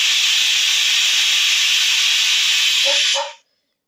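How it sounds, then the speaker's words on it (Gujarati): A loud, continuous steam hiss from a pressure cooker whistle, cooking cluster beans, blasts for about three seconds, then stops abruptly into silence. "જુઓ ત્રણ વિસલ થઈ છે"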